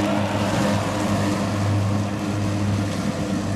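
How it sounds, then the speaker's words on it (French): Raymo robotic mowers work up a grassy slope, their motors giving a steady, loud, continuous hum with low tonal bands that holds constant without slowing. "On entend les moteurs, ils ne ralentissent pas."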